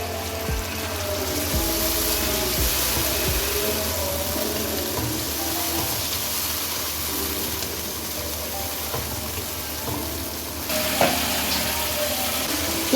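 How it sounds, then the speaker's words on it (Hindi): Mutton frying in a pot with crushed red chili, ground coriander, salt and turmeric for chana dal gosht, a steady close sizzle with occasional stirring scrapes and no talk. "अब इनको मसालों के साथ भून लें"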